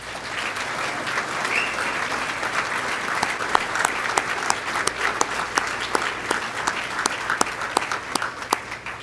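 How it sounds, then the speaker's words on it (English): A crowd at a Culpeper County Valor Awards ceremony applauds its first responders, dense sustained clapping from many people filling the room, with a few sharper nearby claps standing out over the steady roar. "I would like to ask for a round of applause for all of our first"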